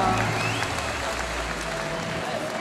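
An audience gives a loud round of applause, dense clapping and crowd noise with a few faint voices and whistle-like tones mixed in, holding steady throughout.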